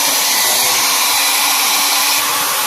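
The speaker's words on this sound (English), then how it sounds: "This is first mode, and second mode is overpower." A Philips HP8100/06 hair dryer runs steadily on its high, more powerful setting, giving a loud, close, continuous broadband whoosh of fan and airflow that holds constant with no talking.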